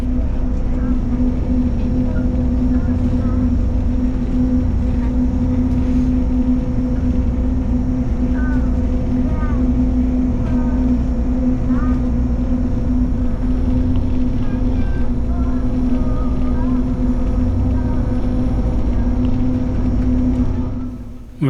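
Steady loud drone with a strong low hum throughout, typical of cabin noise inside an Air Asia X Airbus A330 twin-engine plane taxiing, with faint higher chirps scattered over the constant rumble.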